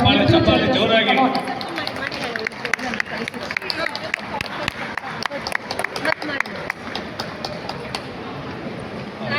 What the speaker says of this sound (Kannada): ಅದೇ ಒಂದು ಜೋರಾದ ಚಪ್ಪಾಳೆ ನಮ್ಮ